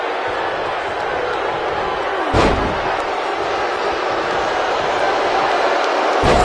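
A sit-out jawbreaker lands with a single heavy slam about midway through a WWE 2K19 wrestling match, over a steady roar of arena crowd noise.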